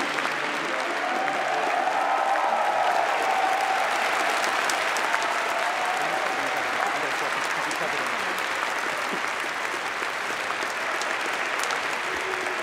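Sustained applause from a large audience honours engineering graduates at a university commemoration ceremony, a loud, dense, steady clapping that holds for over twelve seconds.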